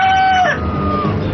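A rooster crows once, a short bright cock-a-doodle-doo that rises and falls, close and clear over a faint background.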